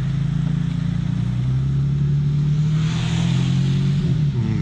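A white BMW M4 G-Power fitted with an Akrapovic exhaust rolls along slowly, giving a steady, loud, deep engine drone with a smooth low rumble and a slight rise and fall in pitch.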